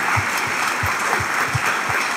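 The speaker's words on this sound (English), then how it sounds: "round of applause for our fantastic Air We Breathe panelists" Audience applause for the Air We Breathe panelists at a climate innovation summit, with brisk clapping and low, regular thumps under it, steady and fairly close for the full two seconds.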